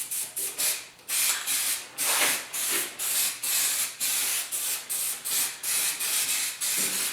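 Aerosol spray can laying a guide coat on sanded inner sheet metal of a 1956 Ford pickup, a series of about a dozen short, loud hissing bursts in quick rhythm with brief gaps between.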